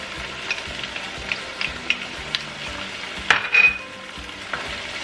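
Tomatoes and chilies frying in a pan, a steady close sizzle with intermittent scraping and clinks as a utensil stirs them around.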